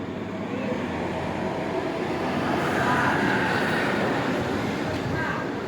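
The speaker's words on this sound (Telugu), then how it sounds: "కాచిగూడ నుంచి రాయచూర్కు వెళ్ళవలసిన డెమో ఎక్స్ప్రెస్ మన మక్తల్ రైల్వే స్టేషన్ వచ్చి నిలబడి ఉన్నది" A DEMU express train idles close by at Makthal railway station with a steady, loud engine rumble and hum that swells slightly midway, with no clear clatter of movement.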